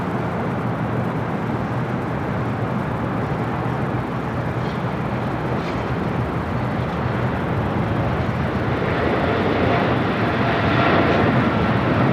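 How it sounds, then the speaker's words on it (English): A China Airlines Cargo Boeing 777 rolls down the runway at LAX, its engines a constant broad, distant roar that swells slightly toward the end, with no talk. "we got that China Airlines Cargo 777 rolling down 25 right there on the south side"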